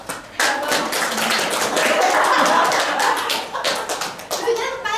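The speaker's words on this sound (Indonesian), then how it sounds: "boleh tepuk tangan." A classroom of students claps hands together in a busy, uneven burst, many close claps and taps blending with children's voices chattering and calling out over them.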